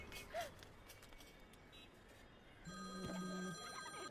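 A telephone starts ringing partway through, an electronic ring repeating close by after quiet background noise and a faint tone.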